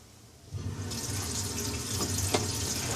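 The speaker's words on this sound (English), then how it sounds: "I'll turn the water on right now first." Water from a kitchen sink faucet begins gushing after a brief quiet moment, then runs steadily and fairly close with a soft splashing hiss.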